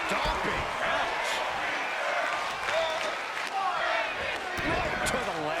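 An arena crowd roars in the WWE 2K22 wrestling game, a dense sustained cheer with claps and shouts while a commentator talks over it continuously.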